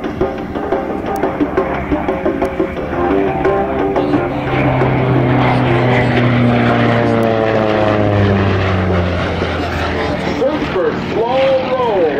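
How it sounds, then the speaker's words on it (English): A propeller airplane drones loudly overhead at an air show in Vidalia, its engine pitch sliding downward as it passes close by and moves away. "As he brings it, the aircraft back around one more time."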